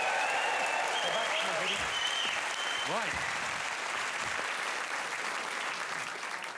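A studio audience on a comedy panel show applauds loudly with steady clapping that slowly fades, while a voice speaks briefly over it.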